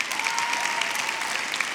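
Audience applause at a music industry awards ceremony, dense and steady clapping from a large crowd throughout, with no voices over it.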